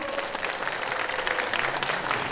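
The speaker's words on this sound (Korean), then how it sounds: "감사의 박수 보내주시면 고맙겠습니다" Concert audience at a Paju civic hall festival concert applauding steadily, a dense, even wash of many hands clapping at close range with no voices on top.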